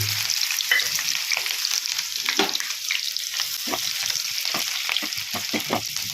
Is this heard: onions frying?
yes